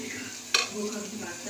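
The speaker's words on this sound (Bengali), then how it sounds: "পেঁয়াজটা একটু ভাজা ভাজা হয়ে যায়" Onions fry in a pan for chicken kosha, a soft steady sizzle with one quick scraping stir of a spoon partway through.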